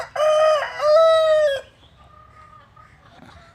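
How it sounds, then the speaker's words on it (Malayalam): A rooster at a home crows once, loud and close, in a long two-part call, followed by quieter background noise with a faint tonal trace. "വേറെ ശബ്ദങ്ങളൊക്കെ ഉണ്ട്, കോഴിയൊക്കെ ഉണ്ട് വീട്ടിൽ"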